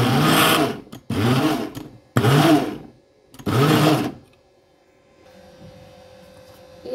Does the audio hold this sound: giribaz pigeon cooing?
no